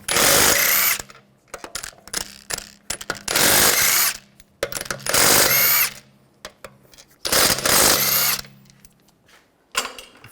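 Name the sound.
power tool removing lug bolts from BMW 535i wheel, 17mm socket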